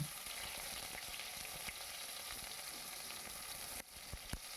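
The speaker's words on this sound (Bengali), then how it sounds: "পেঁয়াজগুলোকে আমি লাল লাল করে ভেজে নেব।" Sliced onions fry in hot oil with a steady, close sizzle, broken by a few sharp pops and light utensil clicks.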